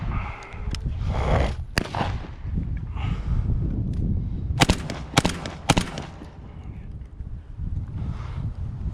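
Several loud shotgun blasts come from a Black Aces FD12 bullpup shotgun firing birdshot at an outdoor range, sharp close reports spaced irregularly over wind and low rumble.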